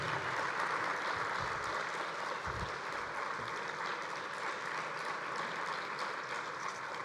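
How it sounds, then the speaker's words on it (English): Steady, continuous applause from a conference audience thanking committee volunteers, a dense even patter of many hands that holds at a moderate level for the whole stretch without talk. "give you a round of applause"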